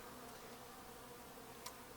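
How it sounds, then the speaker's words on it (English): A faint, continuous buzzing of many bees swarming around spilled water nearby in Culgoa Floodplain National Park, steady and low against quiet surroundings, with no talking. "all these bees have tracked down the water and started swarming all over"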